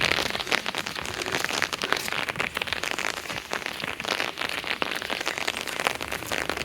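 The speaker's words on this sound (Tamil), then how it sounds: "இப்போ மழை கம்மியாக இருக்குது" Steady rain pours down in a village, a dense continuous hiss of drops striking surfaces, fairly close and even throughout with no voices.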